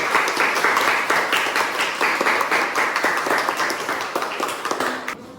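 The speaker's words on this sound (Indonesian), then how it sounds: "Tepuk tangan untuk kelompok" A classroom audience claps for a student group after its presentation, a dense, steady patter of many hands close by that carries on for several seconds before trailing off.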